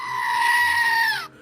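A screaming goat toy figure lets out one loud, sustained bleating scream, a strained goat-like cry held for over a second before cutting off abruptly.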